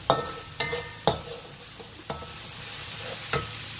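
Sauce for honey-grilled sea bass sizzles as it reduces in a pan, with several sharp scraping stirs breaking a quiet, steady frying hiss.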